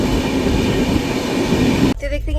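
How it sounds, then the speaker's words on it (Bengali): A train rumbles steadily through dense green jungle in the Dooars, a loud continuous roar of wheels and carriage noise heard from on board that cuts off abruptly near the end. "আমাদের ট্রেনটা এখন জঙ্গল দিয়ে যাচ্ছে"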